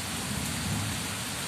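Steady rain falling just after a Kalbaishakhi storm, near a house with a papaya tree out front; a dense, even hiss of drops with a low rumble underneath, continuous throughout, with no voices.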